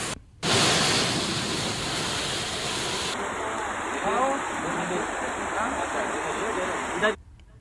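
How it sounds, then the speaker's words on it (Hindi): A river and streams swollen by rain, rushing in spate near the Lakhundar bridge in Madhya Pradesh: a loud, continuous broadband roar of flowing water, heard up close and unbroken for several seconds. "बारिश से नदी नाले उफान पर चल रहे हैं"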